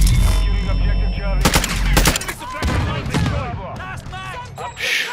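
Rapid bursts of automatic gunfire in Call of Duty Modern Warfare 2, a domination multiplayer match, crackling loudly in clusters over constant game noise with players shouting in between.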